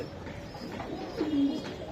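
A racing Giribaz pigeon gives one soft, low coo midway through, faint against a steady hiss of background noise.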